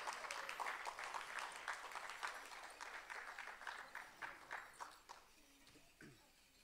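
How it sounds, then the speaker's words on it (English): Applause from a performing-arts audience for the Red Line Drum drummers, steady dense clapping that thins toward the end, leaving a few scattered claps and faint murmur. "Let's give the drummers Red Line Drum another big round of applause"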